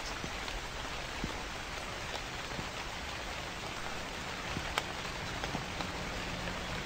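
Loud, steady rain in the Japanese horror video game The Convenience Store, a dense, even hiss of falling drops with scattered patters on surfaces, constant and unbroken, with no voices.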